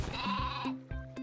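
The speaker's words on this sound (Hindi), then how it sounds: "ओ भाई ये क्या बकरी।" A goat in the Minecraft video game gives a short, close, wavering bleat, heard on its own.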